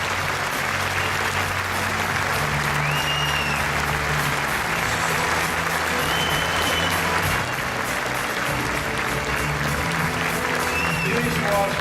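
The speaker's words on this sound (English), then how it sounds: "Please again, give these young talents a big applause for the reaction." Audience applause for young musicians at an international conference session in Sydney: sustained, even clapping from a large crowd, steady and loud throughout with no pauses.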